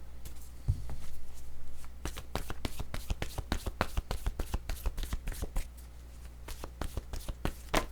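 Word cards from a card game are handled and shuffled, producing a dense run of crisp, close snapping and flicking sounds that keeps steady over a low background hum.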